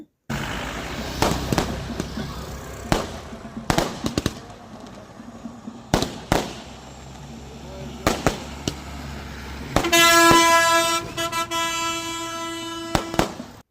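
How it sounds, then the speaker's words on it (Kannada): Sharp firecracker bangs burst irregularly throughout during a roadside Sankranti festival puja outside a village, some loud and close, others farther off, with a train horn blaring near the end and faint voices in the background. "ಪಟಾಕಿನೂ ಹೊಡಿತಾ ಇದ್ದಾರೆ"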